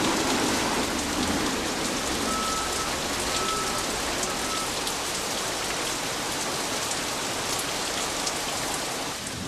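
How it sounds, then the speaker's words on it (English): A heavy tropical afternoon downpour in Kuala Lumpur, Malaysia, dense rain hissing steadily on surfaces, loud and unbroken throughout, with no voices. "here would come the typical Malaysian Kuala Lumpur afternoon downpour"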